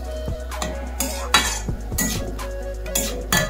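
Jackfruit pickle being stirred with fried five-spice in a pan, a spoon scraping and clinking against the metal in uneven strokes over a low sizzle, close and fairly loud.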